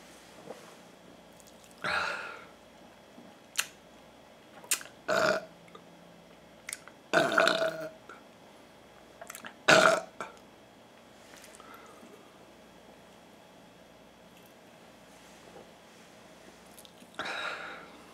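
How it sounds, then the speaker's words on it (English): A person burps after drinking Coca-Cola, letting out several loud, separate belches of varying length spread across a quiet room, with short pauses in between. "I think the burping might be causing the throat problems"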